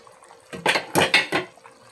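A metal lid comes off a pot of sinigang, a quick run of four clattering scrapes and knocks, close and fairly loud, followed by quiet.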